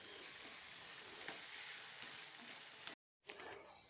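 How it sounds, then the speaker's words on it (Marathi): Chopped tomato is stirred into onions frying in oil in a pan for a cauliflower mixed-vegetable dish, giving a steady, close sizzle with faint stirring scrapes and a brief break near the end. "सगळा टोमॅटो परत कांद्यात मिक्स करून घेते."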